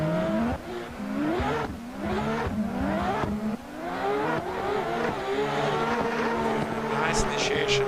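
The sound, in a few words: drifting race cars in a virtual drift video game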